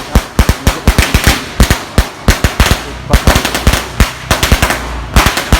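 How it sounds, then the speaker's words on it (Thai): Strings of firecrackers are set off at a Thai temple honoring Ai Khai to fulfill a vow, producing loud, rapid cracks in dense irregular bursts with short gaps, close by and without talk. "จุดประทัดแก้บนนะครับ"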